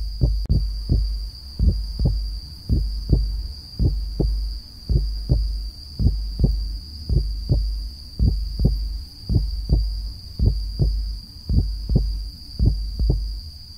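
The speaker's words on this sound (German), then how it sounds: "Darf ich vorschlagen, Herztöne hinzuzufügen?" A heartbeat sound effect in an audio drama gives a steady, loud double-thump pulse that repeats evenly throughout, over a faint high hum.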